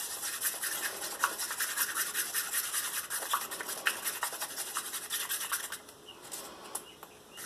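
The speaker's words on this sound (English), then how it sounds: "And we're going to mix with our Mod Podge." Acrylic paint being stirred with Mod Podge in a cup makes continuous close scraping and rubbing strokes, steady and rhythmic, easing off toward the end.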